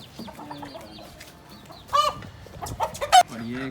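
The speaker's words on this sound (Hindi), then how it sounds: "ये दूसरा मुर्गा है" An Aseel rooster clucks and squawks in short, loud bursts close by, with a few sharp calls toward the end.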